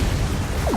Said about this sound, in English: Whoa, someone shot some rockets.